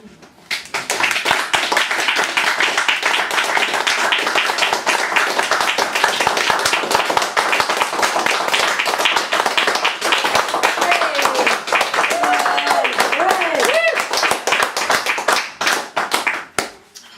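An evening concert audience claps for the performers in a long, loud, sustained round of close, dense applause, with a few voices calling out partway through.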